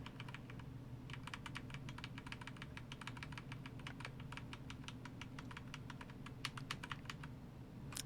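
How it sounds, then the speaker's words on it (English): Steady, quick typing on a computer keyboard, a run of light key clicks over a low constant hum, faint and close. "it's gonna look like I'm really typing"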